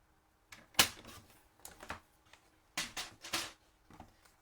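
Patterned paper is trimmed to 11 centimetres wide with a series of short, crisp cutting and sliding strokes in irregular bursts, close and fairly quiet, with no talking.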